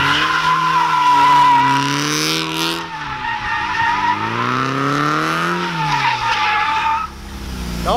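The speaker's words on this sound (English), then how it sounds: "All right, swing a drift." Tires screech and skid continuously as a Zenki car on freshly fitted coilovers drifts, its engine revving and shifting pitch underneath, loud and close with no talking.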